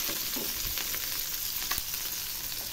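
Chital fish frying in hot oil, a steady dense sizzle with crackling bursts throughout, close and continuous with no talk.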